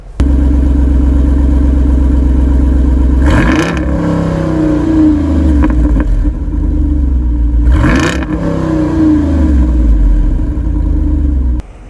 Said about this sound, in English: this Wrangler is going to be outfitted with a dual sport exhaust mode that you can turn on manually